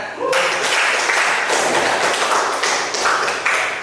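A classroom of students claps together, a dense, close burst of applause that starts abruptly and carries on steadily for a few seconds.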